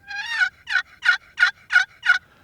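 A wooden turkey box call run by hand to imitate a hen's yelp: six close, loud, evenly spaced raspy yelps in a steady rhythm, with no talking.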